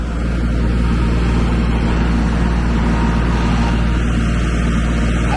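A farm tractor's engine runs steadily, a loud continuous low rumble close by that holds level without pause, heard alone.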